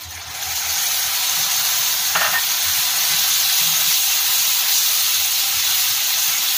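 Whisked yogurt thinned with water hits a frying spice paste for a Bengali Bombay duck curry and sets off a loud, steady, close hissing sizzle.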